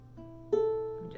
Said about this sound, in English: that's the sound that it should be making if all your strings are in tune